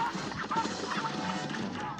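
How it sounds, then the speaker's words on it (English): Geese honk repeatedly at a crossing in the video game Cuphead, a cluster of nasal calls in quick irregular succession over busy game sound, fairly loud and close, with no talking. "Okay, there's geese crossing."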